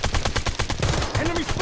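Rapid automatic gunfire from a BloodStrike shooter match, a dense stream of sharp bursts roughly every tenth of a second, loud and close, with a brief tonal game sound near the end.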